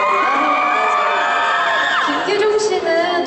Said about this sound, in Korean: 여러분들의 그런 함성 소리 때문에